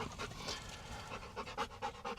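Dogs pant quickly and steadily outdoors, a soft, faint, rhythmic huffing with no voices.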